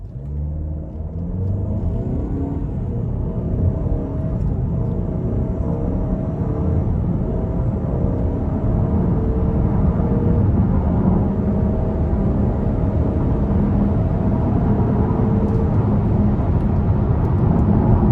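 A 2025 Buick Envision Avenir in all-wheel drive mode accelerating hard, a loud, steady engine drone and road rumble building evenly from inside the cabin.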